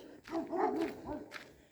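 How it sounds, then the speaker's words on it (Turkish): A dog barks and whines a few times at moderate distance, the calls rising and falling in pitch. "Şu anda diğerleri de havlamaya başladı."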